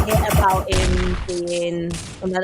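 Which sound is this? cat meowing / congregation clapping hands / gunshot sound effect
gunshot sound effect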